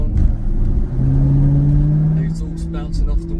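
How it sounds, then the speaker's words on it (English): Maserati GranTurismo S with a Stage 1 tune driving through tight town streets, a loud rising exhaust note echoing off walls followed by a few sharp crackling pops as a voice starts talking. "The exhaust bouncing off the walls. Little pops, crackles."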